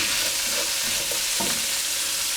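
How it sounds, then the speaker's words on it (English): Onions frying in rendered bacon fat and seasoned oil for a French-style beef casserole, a steady close hiss and crackle with a few soft stirring scrapes and no talk. "add in the onions, and we're just going to cook these onions for maybe just a minute"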